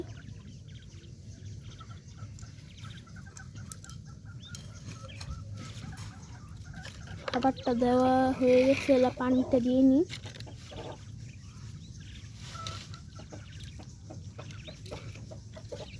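Thirty-five-day-old quail being fed chirp in a brief, rapid burst of high calls midway through, with a person speaking Bengali nearby before and around it over a low background hum.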